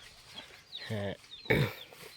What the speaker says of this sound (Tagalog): May mga manok-manok sila guys.